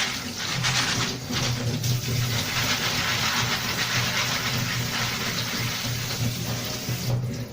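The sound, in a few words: rinsing pasta with water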